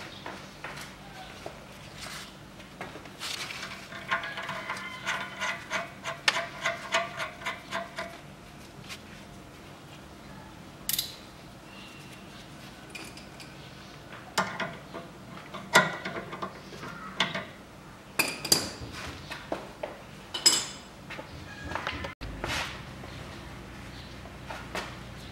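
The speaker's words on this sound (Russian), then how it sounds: "Наживляем и затягиваем." Stabilizer link nuts being threaded and tightened with hand tools on a 2012 Toyota Camry XV50 front suspension, with irregular ratcheting and metallic clicks, scrapes and knocks in uneven bursts, close and moderately loud.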